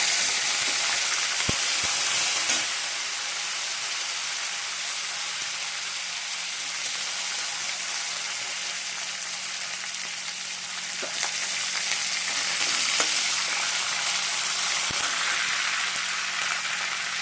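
Green chillies and curry leaves sizzle loudly in hot groundnut oil for a tempering, a dense, continuous close-up crackle with a couple of sharp utensil taps and a brief surge partway through.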